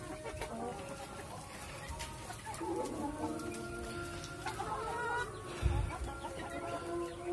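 Chickens cluck and squabble close by while competing over crickets, with soft pecking and scratching sounds and a rustling, busy background.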